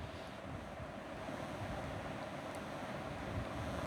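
Chicken in yogurt fries over a high flame, giving a steady, quiet, broadband sizzling hiss with no pauses or talking.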